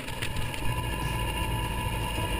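A tractor running while slashing (bush hogging) along a fence line in the bush, its engine giving a steady mid-pitched drone with constant mechanical hum and no talking.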